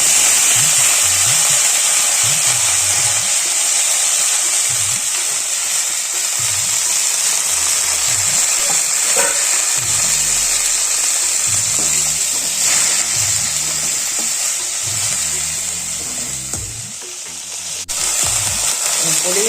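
Mint leaves sizzle steadily in a hot pan for Tamil mint chutney, a loud continuous frying hiss with occasional soft stirring knocks and scrapes, no talking.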